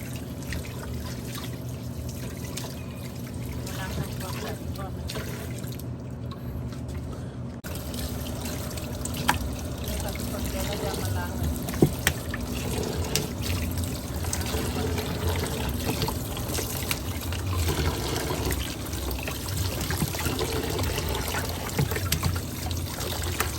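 Water pours and trickles steadily while cleaned eels are washed, the liquid splashing and dribbling continuously at close range, with no talking.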